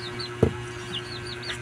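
Small chick making high, thin peeps in a farmyard, a few short rising chirps scattered across a quiet background with a brief nearer thump.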